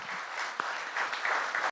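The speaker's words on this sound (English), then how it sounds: "A big round of applause, please" Audience applause for a women's leadership panel at a corporate summit in India, a short, steady burst of many hands clapping at moderate level that cuts off sharply.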